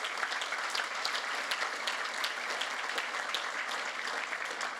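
Church congregation applause during a Spanish-language sermon: steady, dense clapping from a large crowd, even in level and heard from a moderate distance without talk over it.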